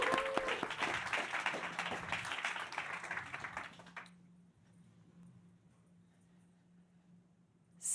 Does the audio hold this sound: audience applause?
yes